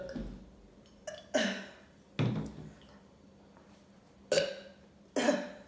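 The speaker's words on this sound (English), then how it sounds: "After I do these burping videos, I be burping for days." Loud belches, about five bursts spaced over several seconds, each a sharp rough eruption during a couple's burping challenge, with quiet gaps between them.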